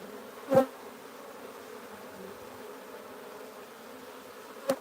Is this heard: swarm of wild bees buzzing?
yes